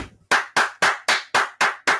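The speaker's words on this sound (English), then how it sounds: "They applauded that counsel." Seven sharp, evenly spaced hand claps, close and loud, sound at a live Irish myth storytelling performance, with no voices over them.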